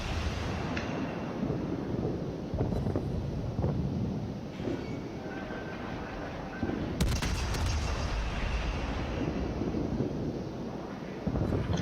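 Naval gun salvos in the World of Warships game, with deep booming blasts rolling under a constant roaring, windy battle ambience, and one sharper, louder report standing out partway through.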